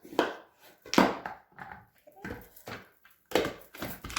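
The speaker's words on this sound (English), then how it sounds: "today we're going to go ahead and use our manual food processor" Pampered Chef manual food processor chopping cucumber, giving a series of sharp clacking chops in uneven bursts, close and fairly loud, with short pauses between strokes.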